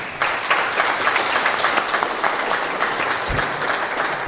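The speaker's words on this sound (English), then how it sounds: "We can clap for that, right guys?" A crowd claps at a Cleveland city press event announcing fire department pay raises, dense sustained applause at moderate volume with one low thump partway through.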